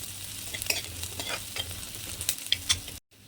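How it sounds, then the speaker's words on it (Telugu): Coriander stems and tomatoes frying in a pan, a quiet steady sizzle broken by scraping stirs and spatula clicks, ending abruptly in silence. "ఆ తర్వాత మనం టమాటాలు కొత్తిమీర ఫ్రై చేసుకోవాలి"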